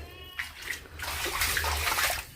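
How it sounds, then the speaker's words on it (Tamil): Plain water is poured and splashed over a scooter during an outdoor wash, a loud, continuous gushing slosh that swells after a brief quieter start. "எதுவுமே போடலை, சும்மா தண்ணியை மட்டும் விட்டு கழுவ போகிறோம்"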